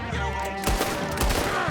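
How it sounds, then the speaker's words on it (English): Gunfire in the video game Red Dead Redemption 2, a sharp burst of layered shots over a low rumbling game backdrop, loud and close, with several rapid cracks following. "What are those guns they have?"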